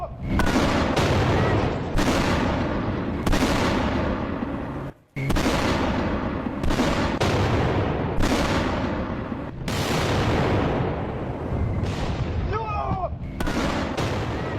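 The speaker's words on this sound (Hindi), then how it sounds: "अब ये मिसाइलें धमाका कर रही थी, इमारतों पर गिर रही थी" Missiles exploding and striking buildings in Israel during an Iranian attack, a rapid series of heavy booming blasts at irregular intervals, loud and close, with brief gaps and overlapping rumble between impacts.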